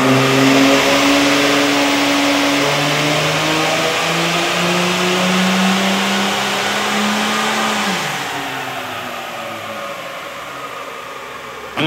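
A car engine revs hard with an EGR delete cable plugged in. The loud, sustained revs climb steadily, then drop away sharply near the end, with no talking.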